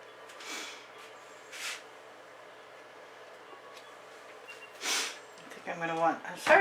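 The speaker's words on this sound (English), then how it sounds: "I'm sorry I keep sniffing." Sniffing from a painter with a cold during a fluid acrylic landscape session, a few short airy sniffs spaced apart and growing louder near the end, close to the microphone.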